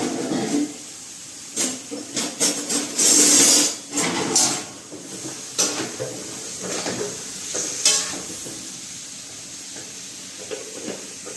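A brinjal, pigeon pea and potato curry is stirred in a pan, with intermittent close scrapes and clatters over a soft hiss and sizzle, and no talking.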